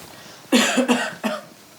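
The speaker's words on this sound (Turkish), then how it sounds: "Öksürüyor." Three quick, rough coughs close by, the first two run together and the last after a short pause, in a quiet room.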